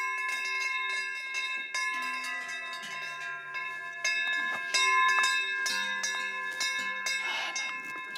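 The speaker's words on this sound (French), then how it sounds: "Les vaches avec les cloches, c'est tout autre chose." Several cowbells worn by cows clank and jangle at once, irregular metallic strikes with ringing overtones, fairly close and continuous without any talking.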